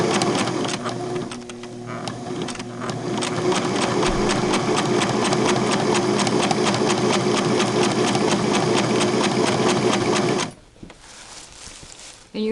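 A Singer 6212C sewing machine stitching at a fast, steady mechanical chatter with a humming motor, running continuously for about ten seconds before stopping.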